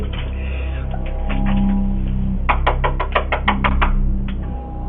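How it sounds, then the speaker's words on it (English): A quick run of sharp knocks on a door, several rapid raps in a row, heard over a low, steady background hum. "a little girl knocking and ringing the doorbell saying, please help me"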